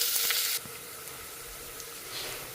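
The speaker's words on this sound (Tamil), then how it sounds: "கொஞ்சோண்டு வெங்காயம் இது போட்டு நல்லா பொன்னிறமாக வறுத்துக்கணும்" Onion fries golden in oil for a Tamil kuzhambu, a loud sizzling burst at first that settles into a softer, steady hiss close by, with no talking.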